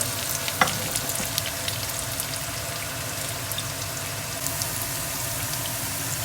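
A soft, steady sizzle of garlic ginger paste frying in a pan, with occasional faint clinks and crackles and no talking.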